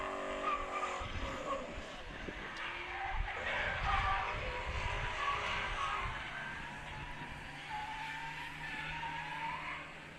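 A drift car skids across a track and grass with an e-brake drag, its tires squealing in a long, rough slide under engine noise, loud at first and easing off toward the end.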